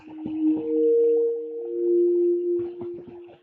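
A sustained sine pad chord from the Sytrus synth in FL Studio, treated with reverb, holds smooth pure tones for several seconds, with the reverb tail blurring where the notes change.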